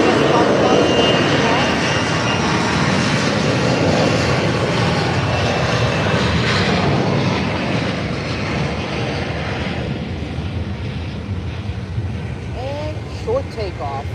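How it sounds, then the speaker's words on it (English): A Bombardier Global 5000 business jet roars on its takeoff run at an airport, a loud, sustained broadband engine rush that slowly fades toward the end. "now we got this Bombardier Global 5000"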